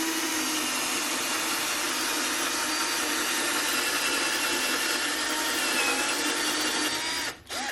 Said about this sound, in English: the easiest way to use this drill bit without a jig is to start straight up and down like this